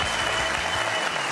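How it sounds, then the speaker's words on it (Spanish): Studio audience applause on a Colombian Saturday TV variety show, a dense steady clatter of many hands clapping throughout, loud and close with no talk over it. "Un aplauso."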